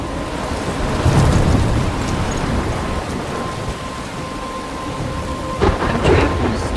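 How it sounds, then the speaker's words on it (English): Heavy rain pours steadily in a stormy scene from the video game Life is Strange, with rumbling thunder swelling at the start and a louder crack of thunder near the end. "I'm trapped in a storm?"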